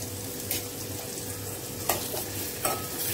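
Onion and tomato sautéing in oil, a continuous close sizzle punctuated by a few sharp stirring scrapes of a spoon against the pan, no voices.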